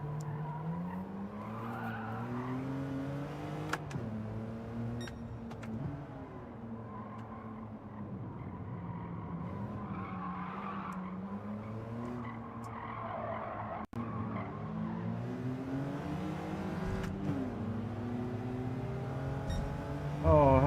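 Peugeot race car in Gran Turismo 7 droning steadily with a continuous engine note, shifting pitch through gears, with tire squeal and skidding through corners throughout.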